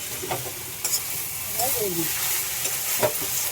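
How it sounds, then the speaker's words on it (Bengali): Fried fish being stirred with papaya in a pan, producing a steady soft sizzle with scraping stirs and a few spoon knocks, close and continuous. "ভাজা মাছটা দিয়ে একটু নাড়িয়ে নিয়ে"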